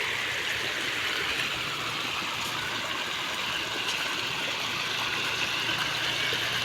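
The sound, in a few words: water flowing through sandbags into a flooded area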